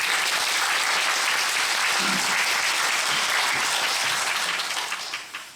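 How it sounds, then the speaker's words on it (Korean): Loud, sustained theater audience applause for the musicians after a performance of the musical Sa-ui Chanmi, dense even clapping throughout that fades out at the very end. "연주자분들한테 박수 한 번만 쳐주세요"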